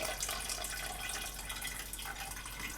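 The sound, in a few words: heated water poured from a pot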